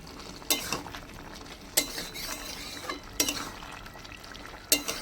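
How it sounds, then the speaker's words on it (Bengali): Fried shrimp being stirred into a potato, bean and cauliflower curry in a pan, four sharp spatula scrapes and clanks spaced about a second apart over a soft simmering sizzle. "চিংড়ি মাছগুলো দিয়ে আমি ভালো করে নেড়ে দেবো এবার।"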